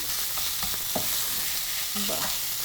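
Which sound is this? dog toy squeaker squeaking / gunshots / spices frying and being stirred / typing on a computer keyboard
spices frying and being stirred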